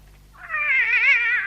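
A cat lets out one clear, wavering meow, close and loud against near silence, used as a sound effect in a radio drama.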